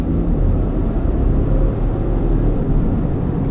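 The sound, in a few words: 2019 Ford F-150 STX accelerating, 10-speed transmission shifting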